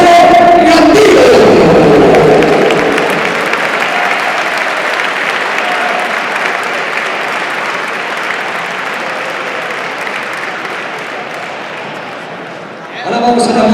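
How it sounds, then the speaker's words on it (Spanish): Loud applause from an audience at a boxing tribute ceremony begins with voices and cheering, then settles into sustained steady clapping that fades slightly before a brief burst at the end. "queremos que le recibamos con un fuerte aplauso"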